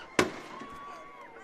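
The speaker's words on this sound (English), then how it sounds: "There goes the fireworks." A single sharp firework bang bursts at a high school football game after a touchdown, followed by a faint whistling trail and distant crowd murmur.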